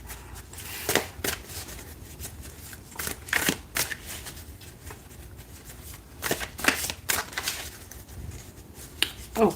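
A tarot deck being shuffled by hand before a card is drawn, crisp riffles and flicks of cards in irregular bursts, close and clear with no voices.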